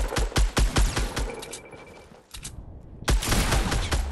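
Minigun fire in Fortnite: fast, dense bursts of rapid shots in two loud volleys separated by a brief quieter lull, close and punchy with no talk.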